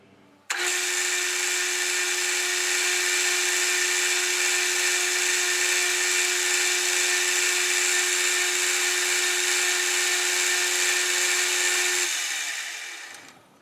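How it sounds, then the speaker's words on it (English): A lathe boring bar cuts a chamfer in an aluminum pot, making a steady, high, ringing chatter tone that holds evenly for about twelve seconds before stopping abruptly. "Try this boring bar. It's got a useful angle there, but it may chatter."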